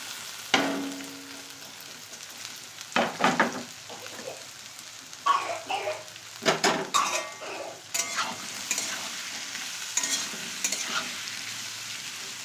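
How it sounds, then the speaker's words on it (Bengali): Mixed vegetables with carrot frying together in oil for fried rice, a quiet sizzle broken by bursts of scraping and tossing as a spatula moves them around the pan, irregular and close with no talking. "আমি এখানে সব সবজিগুলো একসাথেই দিয়ে দিয়ে ভাজবো"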